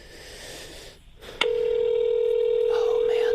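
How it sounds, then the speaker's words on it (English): Phone ringing tone on an outgoing call, starting abruptly after a moment of room noise and holding as a loud, steady electronic tone, with faint background chatter underneath. "Phone's ringing, guys."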